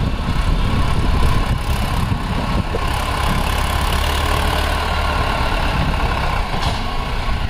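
A Mahindra Arjun Ultra 555 DI tractor engine idles steadily nearby, a continuous low rumble with broadband mechanical noise that holds an even level throughout, with no voices.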